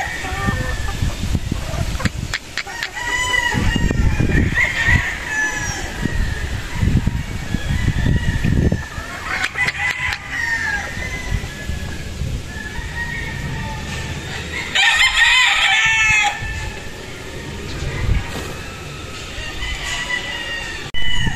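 Joe Goode Grey gamefowl, pullets and a stag, crowing and clucking on a gamefarm, with several roosters calling in turn near and farther off over steady yard noise.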